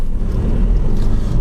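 A manual car's engine runs at just over 2,000 revs, giving a low, steady, fairly loud hum with no voices.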